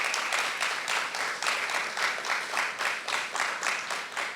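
An audience claps for Professor Patsy Francis, a full, even applause with a faintly rhythmic pulse, as if many hands fall into a loose shared beat, continuing without speech.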